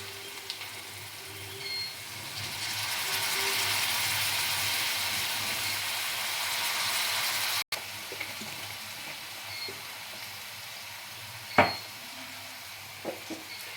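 Soy sauce added to a hot pan while cooking Bengali bhetki chilli fish: a steady frying sizzle that swells then quiets, followed by a few sharp clinks of a spoon against the pan.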